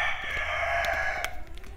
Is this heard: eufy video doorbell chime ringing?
no